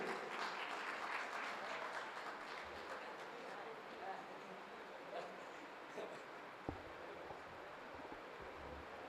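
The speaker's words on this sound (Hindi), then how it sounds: "एक बार जोरदार तालियों के साथ दादा का स्वागत करिए।" Audience applause welcoming a poet onto the stage at a Kavi Sammelan poetry recital, a soft, distant patter of many hands that tapers slightly, with a single sharp knock partway through.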